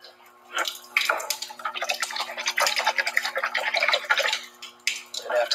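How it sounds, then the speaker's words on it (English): A pH electrode is scrubbed and rinsed with soap and water, giving close, irregular splashing and sloshing with brief pauses and faint rubbing in between. "Go ahead and soap and water first."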